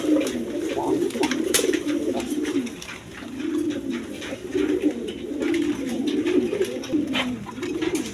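A pair of surma-coloured American fantail pigeons coo in low, rolling phrases that repeat every second or so, close and continuous, with no speech.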